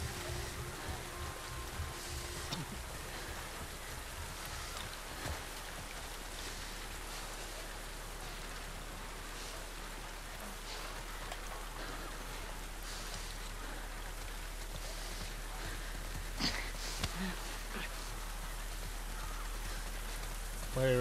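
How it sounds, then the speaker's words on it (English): Steady rain falls in the video game The Last of Us Part II, an even, soft hiss of drops on surfaces that runs throughout at low volume, with a few faint scattered knocks. "Ah, the rain."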